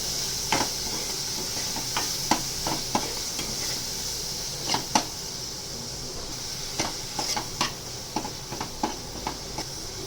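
Capsicum and frozen peas stirred into softening tomatoes in a pan while cooking vegetable pulao, with a steady low sizzle and sharp, irregular clinks of a spoon against the pan.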